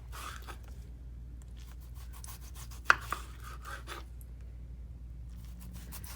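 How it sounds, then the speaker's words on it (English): A knife slices thin through green tomatoes for frying, a run of soft quick cuts and board taps close by, with one sharper knock midway. "we're gonna take our lovely tomatoes and we're gonna slice them up thin"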